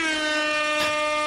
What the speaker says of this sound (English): Zomino wants air horns towards Jan, so we can oblige